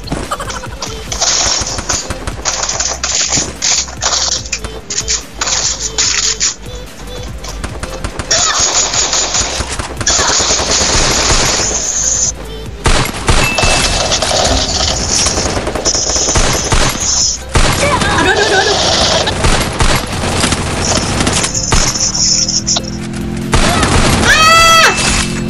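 Gunfire rattles through a Garena Free Fire match, mostly fast bursts of shots with some booms and a few pauses. The shooting is loud and dense, and players talk in spots.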